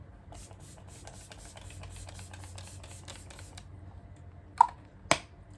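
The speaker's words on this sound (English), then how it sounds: "And I will spray it." Flower Beauty Seal the Deal setting spray mists from a pump bottle in a rapid series of short, soft hissing bursts, followed by two louder clicks or taps, close up with no talking.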